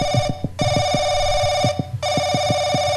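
A telephone in the horror video game Paranoiac rings in two long bursts of rapid, bright trilling, loud and close, separated by a brief pause, with a low rhythmic thumping underneath.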